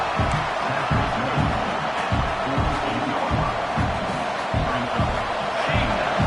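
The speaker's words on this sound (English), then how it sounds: "Listen to the crowd energy here in the early going." A large crowd roars continuously in a wide-open football stadium. A dense, steady wash of cheering comes with low rhythmic thumps beneath it.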